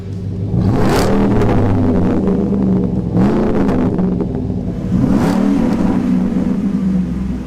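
Supercharged 6.2-liter V8 in a Roush truck revving up three times in loud, close bursts, each rising and falling back to a steady rumbling idle, with no talking.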